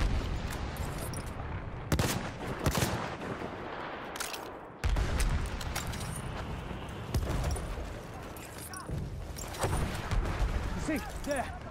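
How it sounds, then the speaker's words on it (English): Machine gun fire in Battlefield 1 crackles through a busy battlefield din, with several sharp, loud bursts standing out against constant background shooting and commotion. "Spotted a machine gun."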